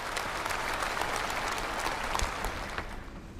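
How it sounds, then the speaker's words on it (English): Members of China's top political advisory body applauding in a large assembly hall to approve the session agenda, loud, thick, sustained clapping that fills the whole stretch without a break. "If no, please applaud for the approval."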